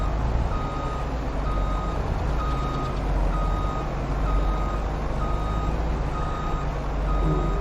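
Steady reversing beeps from a Tatra truck in Farming Simulator 22, repeating at an even rhythm over a constant low engine rumble and farm ambience.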